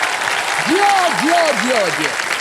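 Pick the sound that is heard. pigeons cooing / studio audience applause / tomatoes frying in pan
studio audience applause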